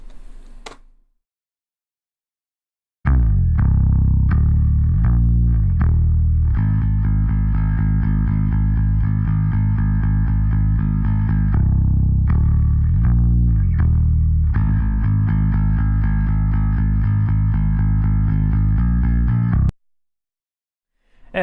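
A processed bass guitar track mixed to stress the low end plays for about seventeen seconds after a short silence, with thick, sustained notes that are loud and alone, a slightly distorted growl, and brief gaps between phrases before it cuts off.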